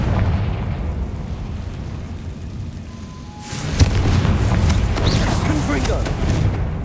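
A Confringo fire spell from Hogwarts Legacy erupts partway through as a sudden loud burst with a sharp crack, then a roaring, crackling blaze over a steady low rumble of game ambience, with a voice talking underneath.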